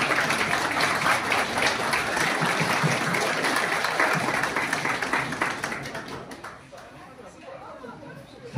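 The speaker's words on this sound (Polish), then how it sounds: "Wielkie brawa." An audience in a hotel resort setting applauds and chatters as a member of the hotel staff is introduced, a dense wash of clapping that fades out toward the end.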